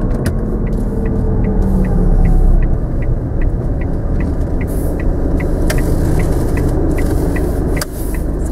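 Car engine humming at low revs during a left turn on a driving lesson, a steady rumble with a regular ticking indicator clicking throughout.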